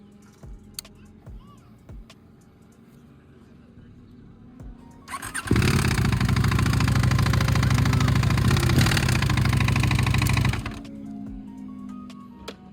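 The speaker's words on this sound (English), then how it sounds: "the bike was making an extremely bad noise" A KTM 990 RC R motorcycle with a blown engine revs into a loud, harsh, squealing roar that holds steady for about five seconds before dropping back to a rough idle, close to the microphone.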